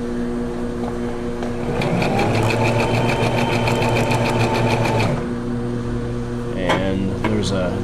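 A Brother XL3750 sewing machine runs a zigzag test stitch, a fast even mechanical whir with rapid needle ticking heard up close for a few seconds before it stops, followed by faint handling sounds.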